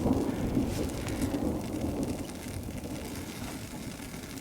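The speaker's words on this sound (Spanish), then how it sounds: "Se puede poner ruda la noche con esos ruidos, con esos truenos" Steady rain falling at night on a camping site in a thunderstorm, a dense hiss with a deep rolling rumble of thunder underneath, constant and fairly close with no voices.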